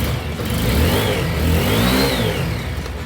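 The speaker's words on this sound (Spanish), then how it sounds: "Ahora la moto ya prendió. Ya la moto funciona." A TVS RTR 160 V4 motorcycle, a 2021 model with a faulty CDI, runs with a steady mid-pitched engine drone that rises and falls slightly, close and continuous with no talk.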